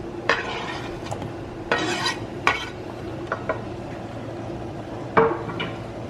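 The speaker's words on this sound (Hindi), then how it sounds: "चला रही हूँ टमाटर को।" Tomatoes are stirred in a pan while cooking dum aloo, giving intermittent scraping strokes of a spoon against the metal, five or six distinct rasps close up over a faint background sizzle, no talking.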